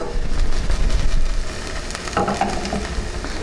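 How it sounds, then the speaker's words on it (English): Chopped onions sweat and sizzle in a hot pan, a steady close-up hiss with soft stirring scrapes, loud and continuous with no voices. "So you just want to let the onions sweat."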